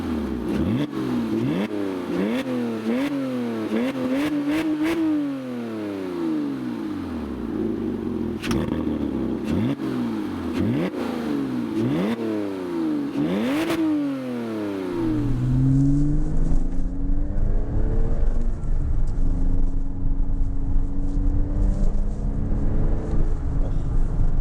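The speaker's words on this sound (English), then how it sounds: "I've actually upgraded the exhaust system in this car, and I've put in what they call a Carnival exhaust" Porsche 987 Cayman/Boxster S fitted with an aftermarket Carnival exhaust, revved repeatedly in quick rising and falling bursts, then settling into a loud, rumbling idle and steady drone, close and alone.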